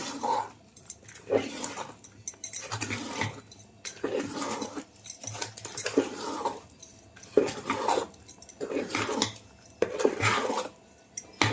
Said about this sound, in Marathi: आता जीव करून घ्यायचा हा पीठ सगळा एकजीव करून घ्यायचा